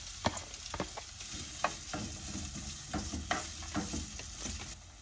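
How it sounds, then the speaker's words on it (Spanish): Diced potatoes frying in oil in a skillet, a steady soft sizzle broken by scattered scraping and clinking stirs, close and fairly quiet, with no voices. "Le vamos a poner las papas para que se doren un poquito."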